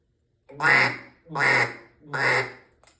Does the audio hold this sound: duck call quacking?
yes